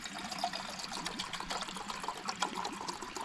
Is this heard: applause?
no